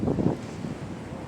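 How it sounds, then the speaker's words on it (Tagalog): Wind-driven surf rolls in on a shore at San Jose Partido, a broad steady wash of waves mixed with gusty wind rumble on the microphone, no voices. "Yan ang tataas ng alon, no?"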